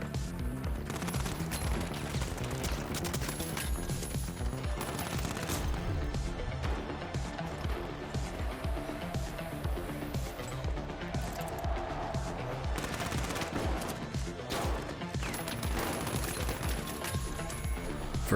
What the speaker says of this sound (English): I'm being shot at on the roof